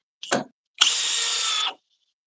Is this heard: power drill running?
yes